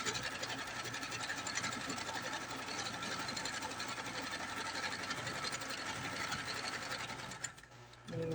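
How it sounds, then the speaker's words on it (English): A sewing machine runs a continuous, even stitch across fabric with elastic for a pocket top, its close mechanical chatter holding steady before slowing and stopping at the very end. "just pull it nice and flat and sew all the way across"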